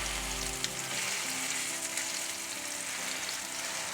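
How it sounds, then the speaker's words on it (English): Beef burger patties sear in a hot pan, giving a steady, close sizzle that runs unbroken for the whole stretch with no voices. "It's nice and hot, we can hear that sizzle."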